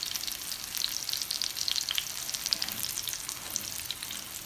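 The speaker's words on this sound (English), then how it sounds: "my breadfruit is frying, guys, and my red herring is almost finished" Breadfruit slices frying in hot oil in a pan for a Jamaican breakfast, a continuous crackling sizzle with scattered sharp pops, close and steady, with no talking.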